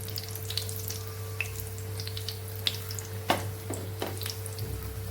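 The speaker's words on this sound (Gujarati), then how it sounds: "તો રીતે ફેરવીને આપણે પાપડને તળી લેવાના છે બધી સાઈડથી" Stuffed papad rolls fry in oil, giving a steady low sizzle with scattered crackles and occasional sharper pops as the rolls are turned to cook on all sides, with no talk.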